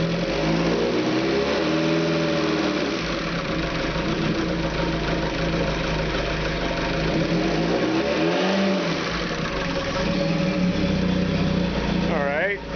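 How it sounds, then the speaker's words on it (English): A rebuilt GTX engine, fresh from a four-piston replacement and head swap, idles and revs in several rising and falling pulls, loud and close, with a voice speaking over it. "Let's see how it revs."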